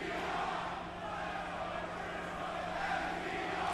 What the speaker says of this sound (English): I want you to listen to this crowd right now